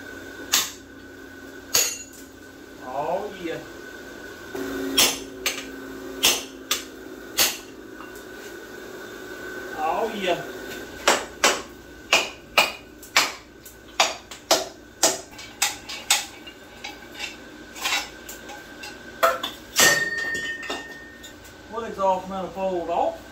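Sharp metallic hammer strikes on a chisel against rounded-off bolts of a 1964 Ford 390 FE engine, a long irregular run of loud close clanks with short pauses and some quieter tool clinks between them.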